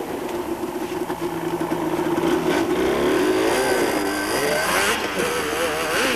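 Yamaha quad racing bike at the 1995 Sugarbelt 400 rally, its engine revving and climbing in pitch as it accelerates, loud and sustained with no talk.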